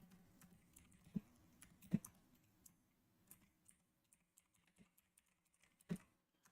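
Keyboard clicks tapped out at a day-trading desk, sparse and uneven with a few sharper, louder strikes among quieter taps, close and otherwise quiet.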